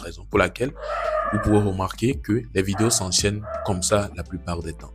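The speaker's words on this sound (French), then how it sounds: "Désolé pour mon chien qui est en train de faire du bruit là" A pet dog barks and whines indoors, with a few yips and a drawn-out howl-like cry mixed under steady French-language talk close to the mic.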